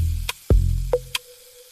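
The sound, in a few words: high-heat wok stir-frying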